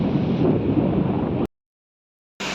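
Low, rumbling wind buffets a microphone on the Istanbul waterfront between Harem and Karaköy for over a second, cuts to silence, then returns abruptly.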